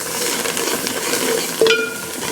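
Steady crackling sizzle of spices frying in hot oil as a tempering for tandoori dal, on a wood-fired stove, with a brief clink of a utensil against the pan near the end.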